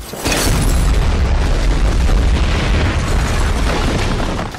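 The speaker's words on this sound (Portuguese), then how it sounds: "ele explode e colapsa, fazendo um barulho terrível" In a James Bond film, a building explodes and collapses: a sudden loud boom swells into a sustained, heavy rumbling roar that fades slightly at the end.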